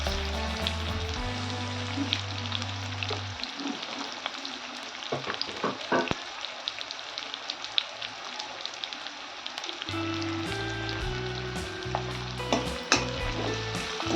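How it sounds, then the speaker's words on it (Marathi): Onions, garlic and green chilies sizzle steadily in a hot pan, with occasional stirring clatter near the middle and a loud continuous frying hiss at close range. "छान परतून घेऊया गोल्डन कलर मध्ये आपल्याला कांदा होऊ द्यायचा आहे"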